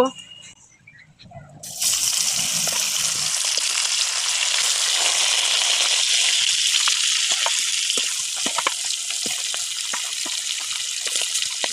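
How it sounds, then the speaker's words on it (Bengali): Fish pieces go into hot oil in a heated wok. After a quiet start, a sudden loud sizzle erupts and holds as an intense, crackling frying hiss. "এবার খানিকটা ভেস্টিজ অ্যাসোয়ার্ডের তেল দিয়ে দেব। এক এক করে মাছটাও দিয়ে দেব।"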